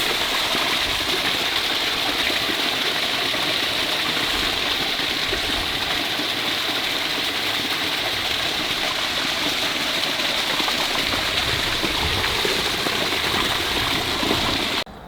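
Water gushes steadily from a draining fish tank being emptied for a pond, a constant, loud rushing flow with no pauses from start to finish.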